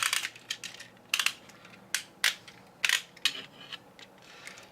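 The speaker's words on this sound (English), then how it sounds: "there's a dial on the back, just rotate it" Sharp clicking ticks from a dial being rotated on the back of a Takara Transformers Beast Wars II toy missile launcher, a handful of irregular snappy plastic clicks, close and fairly quiet, with no talking.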